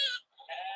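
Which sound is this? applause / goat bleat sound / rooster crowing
goat bleat sound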